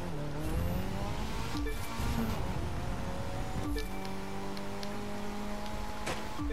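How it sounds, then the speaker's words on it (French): A custom Mitsubishi Lancer Evolution X in the video game The Crew 2 revving and whining with squealing tires as it drifts, gear shifts changing the pitch, steady and up close. "elle dérape tellement qu'elle a du mal à repartir, à reprendre l'accroche"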